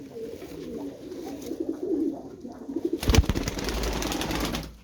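Pigeons in a coop at evening, including a young bird, give soft low cooing throughout, then a burst of louder wing flapping and shuffling near the end.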